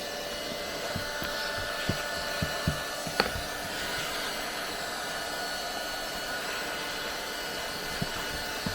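A Leister Nexheat 300 cordless hot air welder blows continuously in a steady, close whoosh, with a few faint ticks and knocks over the top and no speech.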